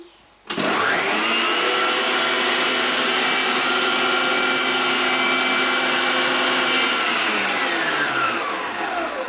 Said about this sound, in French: je vais continuer à battre tout en ajoutant le beurre